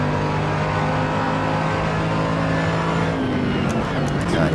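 A race car engine roars in a racing video game at the Red Bull Ring, a loud, sustained drone with shifting pitch and a brief change in tone late on.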